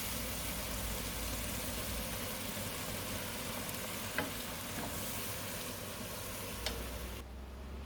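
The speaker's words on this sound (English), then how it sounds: "we're going to add the turmeric. Give that a good stir. I've got some pureed tomatoes here, about a cup, so that can be added in." Pureed tomatoes with turmeric sizzling steadily in a frying pan, a dense continuous hiss with a couple of faint stirring clicks, close and even, ending abruptly.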